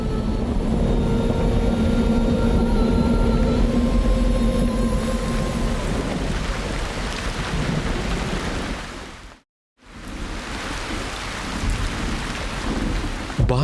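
Heavy rain pours steadily in a Western Ghats forest, India, with deep rumbling thunder rolling underneath, a brief hush, then the downpour resumes loud and close.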